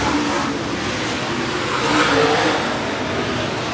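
Tri-State late model race cars roar around the Clay County Speedway clay oval, a continuous dense engine noise from a pack of cars that swells briefly as they pass.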